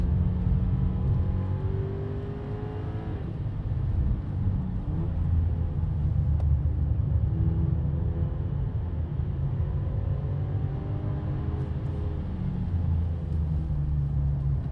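A white Volkswagen Polo drives a relaxed lap of the wet Nordschleife, its engine humming at moderate steady revs under a broad wash of tyre spray and cabin rumble, with no one speaking.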